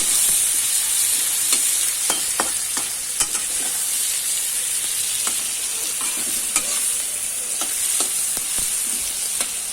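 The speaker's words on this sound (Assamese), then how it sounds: "তেল ওলোৱাৰ পিছত মই তাতেই পিঁয়াজ আৰু জলকীয়া কেইটা দি আৰু অকণমান ভাজি ল'ম এইখিনিতে" Onions and green chillies fry in oil for a pork dish with bamboo shoots, making a steady close sizzle with scattered clicks of stirring throughout, and no voices.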